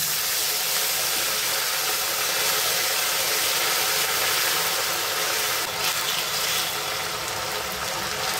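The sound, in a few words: ginger and green chili paste frying in a pan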